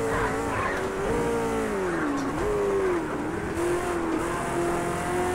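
A race car engine in Project Cars 2, played on a G27 steering wheel, revs and accelerates loudly and continuously, the pitch rising and dipping with gear changes and faint tire squeal.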